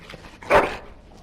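A single short dog bark from the video game Dragon Age Origins, close and fairly loud, with faint background ambience before and after.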